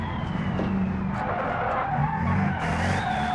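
A delivery van in a driving game brakes hard and skids, with a long tire squeal running steadily over the engine noise. The sound is close and sustained, with no voices.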